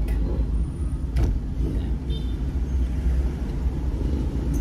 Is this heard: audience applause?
no